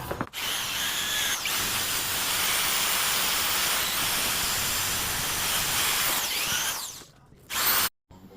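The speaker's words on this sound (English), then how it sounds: "we got our drill set up. The wire wheel. Just start going to town." A power drill spins a wire wheel against aluminum engine parts from a Duramax, a loud, continuous scratchy whir for several seconds before it stops abruptly.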